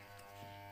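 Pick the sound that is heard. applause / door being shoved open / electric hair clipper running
electric hair clipper running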